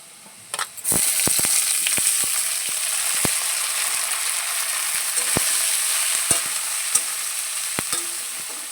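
Soybean chunks tip into a pan of fried, parboiled potatoes and burst into a loud steady sizzle, punctuated by sharp knocks of a spatula stirring against the pan.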